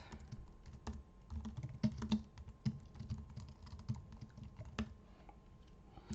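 Steady typing on a computer keyboard while writing C/C++ code, a quiet, continuous patter of key clicks with a few slightly firmer strokes, close by and with no talk.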